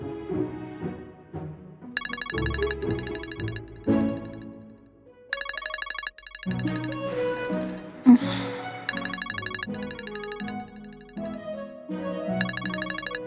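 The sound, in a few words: phone ringtone of a video call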